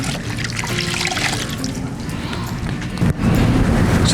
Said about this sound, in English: let's get this rinsed real quick.